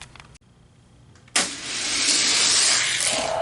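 Hot Wheels toy cars, a Ford GT500 against an Alfa Romeo, race side by side down a sloped track, a brief quiet start giving way at once to a loud, steady rolling whoosh that holds to the end.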